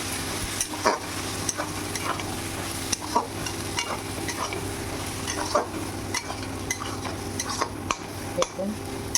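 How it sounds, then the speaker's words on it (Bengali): Ash gourd stirred in a pan with mustard and poppy seed paste, a steady close sizzle with regular scraping stirs and occasional clinks of a utensil against the pan. "এবার আমি সর্ষে আর পোস্ত বাটা দিয়ে নামিয়ে নেব।"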